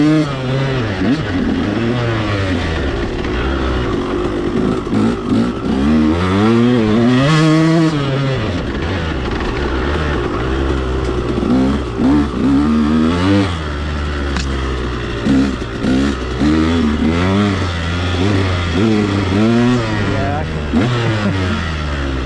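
A KTM two-stroke dirt bike revs hard and close, its pitch climbing and dropping through repeated throttle bursts in a loud, continuous ride, with a voice now and then above it.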